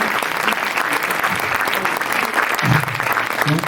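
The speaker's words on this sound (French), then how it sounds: "Je crois qu'on peut applaudir Julie aussi" A short burst of warm audience applause at a French conference on the energy transition, clapping filling the room evenly for a few seconds.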